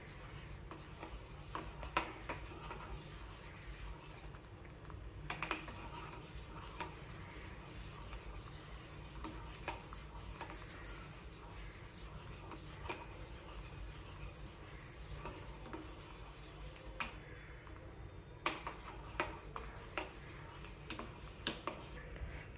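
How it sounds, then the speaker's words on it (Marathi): Milk stirred continuously in a pot on the stove, a faint steady scraping and rubbing of a spoon against the pot bottom with soft occasional clinks, quiet and close. "आता आपल्याला दूध सतत हलवत राहायचे आहे जोपर्यंत दूध थिक नाही होत."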